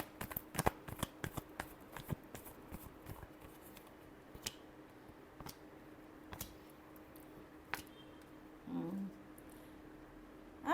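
Tarot cards being shuffled in a quiet room, a steady run of crisp riffling slaps and flicks at close range, with a brief soft thump near the end and no talking.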